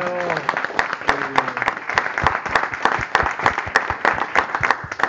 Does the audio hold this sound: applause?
yes